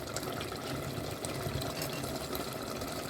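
Mutton stock water boiling in a pot for biryani: a continuous, fairly faint bubbling and rumbling simmer with no talking.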